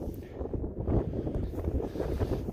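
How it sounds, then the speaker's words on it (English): Strong, cold wind buffets the microphone outdoors during a DIY gate build and install, a steady low rumbling roar with gusty swells throughout and no voices. "Stay out of the wind, guys."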